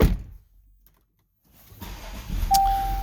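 A 2020 Range Rover Discovery engine cranks and catches after a short quiet pause, rising into a steady low idle rumble up close, with a thin whine and a brief click appearing over the running engine.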